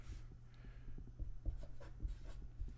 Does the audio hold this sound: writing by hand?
yes